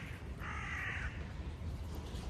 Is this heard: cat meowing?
no